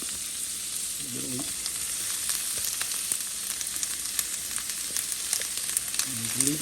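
Chopped leek dropped into a hot pan with carrots, sizzling and frying in a steady bright hiss close up, with a couple of brief stirring scrapes.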